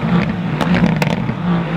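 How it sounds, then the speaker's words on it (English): A 2018 Mercedes-AMG GT C Roadster exhaust rumbles loud and close, holding a deep steady drone with sharp crackles and pops bursting through at moments. "I think AMGs are officially my favorite exhaust sound out of any manufacturer."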